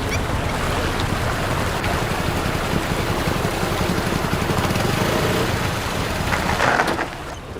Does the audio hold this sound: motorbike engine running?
yes